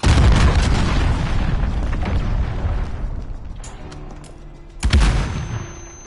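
A cruise missile blast from the game Call of Duty Modern Warfare, with a loud, dense roar that slowly fades, then a second sharp, booming impact near the end.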